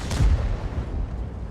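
A single tank cannon shot in a tank video game during an IS-4 engagement, one deep booming report followed by a rumbling decay, heard alone.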